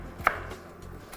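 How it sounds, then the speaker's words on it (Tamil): Vegetables being chopped for pasta: two sharp knife strikes on a board, close and clear, spaced about a second apart, with no talk. "என்ன காய் உங்களுக்கு பிடிக்குமோ அந்த காயை நறுக்கி"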